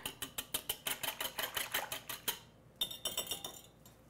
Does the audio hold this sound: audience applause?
no